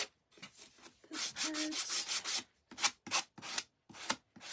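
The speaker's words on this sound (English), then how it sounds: "So I've got everything sanded." Hand sanding on a wooden sunflower gnome door hanger craft piece, a series of close, fairly loud rasping strokes, a long sustained stretch then several short separate rubs with pauses between.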